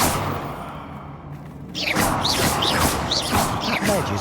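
Confringo blasting spell in Hogwarts Legacy going off with a sudden loud blast, followed by a run of crackling, whooshing impacts and bright zaps in a dense, echoing combat scene.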